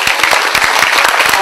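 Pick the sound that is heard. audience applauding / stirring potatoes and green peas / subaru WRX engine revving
audience applauding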